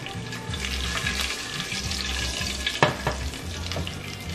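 Thai green chilies frying in a pan for upma, a steady close sizzle with tapping and stirring sounds and a sharp clatter near the end.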